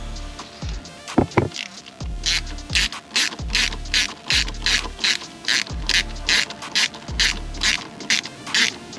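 A hand ratchet clicks in quick rhythmic strokes, tightening a Jubilee hose clip on the air intake of a Mini Cooper JCW track car, each pull giving a crisp burst of pawl clicks, close and alone.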